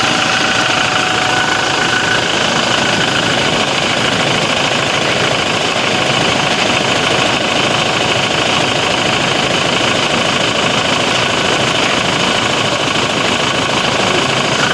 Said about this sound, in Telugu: డీజిల్ ఇంజిన్స్ లో అందరూ బాగా లవ్ లో పడే సౌండ్ మాత్రం ఇదే